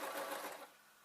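Short burst of a domestic sewing machine stitching a pumpkin costume, steady whirring at close range that fades slightly toward the end, with no talking.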